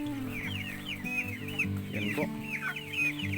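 Three-month-old Plymouth Barred Rock chickens on a farm cluck in repeated soft, rhythmic calls from several birds close by, with someone speaking briefly.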